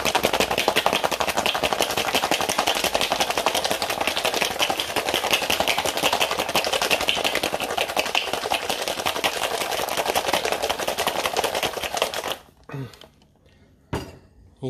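A cocktail shaker holding pineapple jalapeño margarita is shaken hard, its ice rattling in a fast, loud, continuous rhythm for about twelve seconds, then it stops and a few scattered clinks follow.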